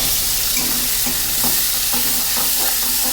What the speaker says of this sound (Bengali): হালকা করে ব্রাউন কালার করে ভেজে নেব, হালকা ব্রাউন, বেশি না।